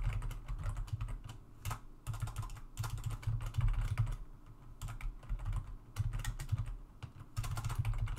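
Rapid, continuous clatter of keys being typed on a computer keyboard, close up, in uneven bursts over a low background hum, during a lecture.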